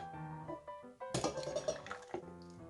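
Clinking of a spoon and utensils against a saucepan as a thickening vanilla-coconut ice cream mixture is poured back in, a few close metallic taps and scrapes over a soft background with no talking.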